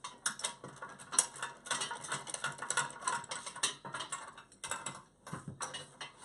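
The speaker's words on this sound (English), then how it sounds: "Eric's taking a wrench" A ratcheting wrench tightening the valve seat bolts of a fire hydrant, rapid close clicking in bursts with brief pauses between strokes, fairly quiet and with no talking.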